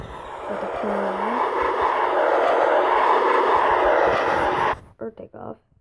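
A simulated airplane takeoff sound effect in a weather app: a loud, steady jet roar that builds and holds for several seconds, then cuts off abruptly and is followed by a few short bursts of a voice.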